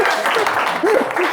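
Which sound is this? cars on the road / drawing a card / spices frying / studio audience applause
studio audience applause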